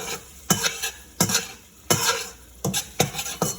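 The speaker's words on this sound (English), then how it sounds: "Y'all hear me scraping because this thing's metal" A metal utensil scrapes and knocks against a metal pot of bacon and egg fried rice in a handful of sharp, irregular strokes, close up with a faint sizzle underneath.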